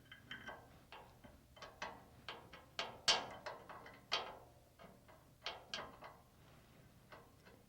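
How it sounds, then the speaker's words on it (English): A bolt being worked through a slotted bracket on a Unisaw table saw during restoration, heard as a run of quiet metallic clicks and ratcheting ticks in an uneven rhythm, close by with no talk. "Now I just want to start this bolt through this bracket, which is slotted"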